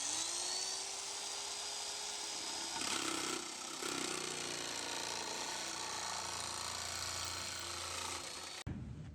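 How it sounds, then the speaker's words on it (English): A handheld nibbler chews through thin aluminium sheet with a harsh, continuous high-pitched grinding rasp for about nine seconds, loud and steady with slight surges, then cuts off abruptly near the end. "you can see it just cuts away the aluminium"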